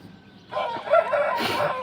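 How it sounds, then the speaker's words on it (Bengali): An Aseel rooster crows nearby, a loud drawn-out call starting after a brief quiet moment and carrying to the end. "একটা ভিডিও আমি করে আপনাদেরকে দেখাই মোরগটা"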